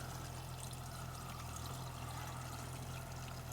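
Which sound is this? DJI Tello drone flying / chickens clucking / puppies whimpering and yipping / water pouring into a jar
water pouring into a jar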